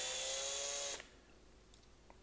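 A power drill bores out a rivet on a Hot Wheels toy car, a Nissan Skyline LBW, whining loud and close for about a second before cutting off abruptly, followed by a few faint small clicks.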